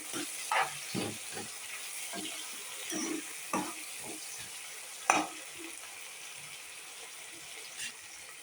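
Ingredients frying in oil for meal maker (soy chunk) biryani: a steady low sizzle with scattered stirring clinks and scrapes, some sharper knocks near the middle, close and moderately quiet with no talking.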